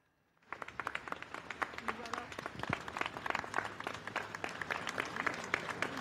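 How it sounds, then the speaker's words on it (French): Crowd of onlookers gathered behind barriers outside the Sainte-Clotilde basilica during a final tribute, applauding steadily with dense, continuous clapping at moderate distance, mixed with scattered voices in the crowd. "ce sont les applaudissements, il y a des badauds qui sont venus se rassembler derrière ces barrières"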